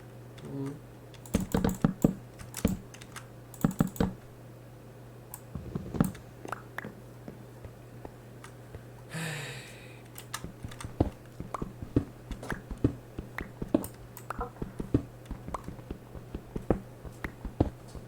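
Computer keyboard typing during a Minecraft survival game session, close and clattering in irregular bursts of quick keystrokes with short pauses, over a steady low electrical hum.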